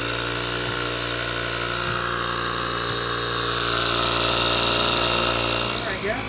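An electric tire pump runs continuously beside a 1965 Volvo 122S Amazon, giving a steady motor drone with faint rhythmic pulses that swells slightly near the end.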